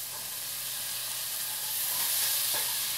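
Steady, bright sizzling as a tomato goes into hot extra virgin olive oil in a curry pan with cauliflower and royal trumpet mushroom, a continuous hiss of frying that swells slightly, with no talking.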